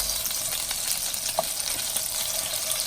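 Meatballs frying in hot oil in a pan, a steady dense sizzle with crackling splatters and one brief sharper pop, close and continuous with no talk.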